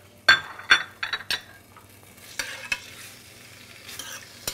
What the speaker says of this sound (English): cook these with the finely chopped garlic that I have for about 10 minutes or until dry